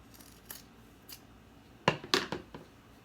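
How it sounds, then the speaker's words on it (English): Scissors trimming the fabric of a pleated face mask during sewing: a few quiet snips early on, then several close, crisp cuts in quick succession, with no talking. "Find my scissors. Go ahead and trim it just a little bit so it's just even."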